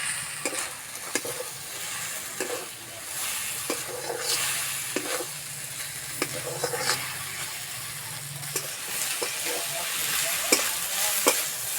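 Leftover cooked rice and vegetables stir-fry in a pan with steady sizzling and repeated scraping strokes of a spatula, clear and close, with no voices.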